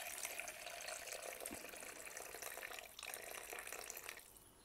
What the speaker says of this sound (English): So we measure up 225 milliliters of that.